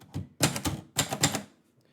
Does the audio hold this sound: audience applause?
no